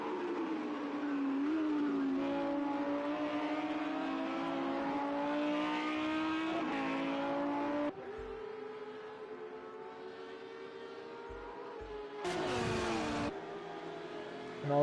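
Race cars lapping Donington in Project CARS 2, engines droning steadily with rising and falling pitch as they accelerate and shift, a close car passing loudly near the end, with no talk.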